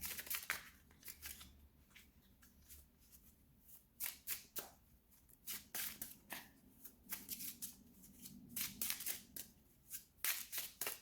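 Tarot cards shuffled and drawn by hand close up, with quiet riffling, soft slaps and sliding flicks coming in irregular bursts, faint and intimate.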